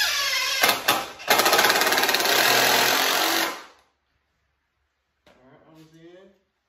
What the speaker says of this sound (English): So let's go and get this drilled in.